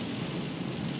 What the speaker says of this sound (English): it's been raining since last night